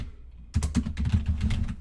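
A rapid burst of keystrokes on a computer keyboard, close and crisp, starting after a short pause and continuing as quick clicking taps.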